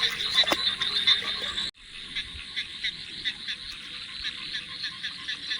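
Frogs croaking at night during rain, a dense chorus of rapid repeated croaks, loud at first and then continuing more faintly after a sudden drop, with no talk.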